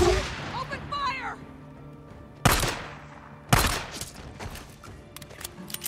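Gunfire in the video game Days Gone, sharp loud shots cracking out in two main bursts with scattered smaller pops between, while a voice speaks early on over quieter game ambience.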